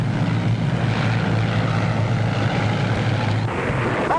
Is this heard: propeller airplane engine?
yes